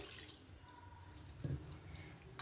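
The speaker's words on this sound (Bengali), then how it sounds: "এবার আমি যে মশলাটা বেটেছিলাম সেই মশলা ধোয়া জলটা এখানে দিয়ে দেবো" Rinse water from ground spices is poured onto a hilsa fish marinade for ilish bhapa, giving a faint, brief splash and drip over a low background hum.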